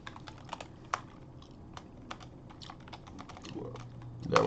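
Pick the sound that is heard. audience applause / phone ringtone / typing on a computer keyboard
typing on a computer keyboard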